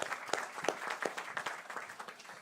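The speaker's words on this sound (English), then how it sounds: "So let's give them a round of applause." An audience claps to honor healthcare workers at a panel discussion, a steady patter of many hands at moderate distance with no talking over it.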